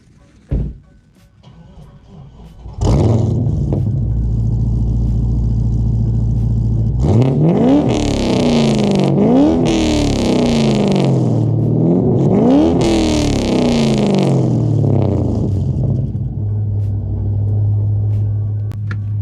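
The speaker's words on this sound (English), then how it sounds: "give it a real good rev from outside, and then I'll pull the camera in, give it the same rev from inside" HSV R8 with an LS1 V8 and Xforce 3-inch exhaust, heard from outside as a loud idle rumble gives way to several hard, rising revs that fall back between blips, then settles to a steady burble.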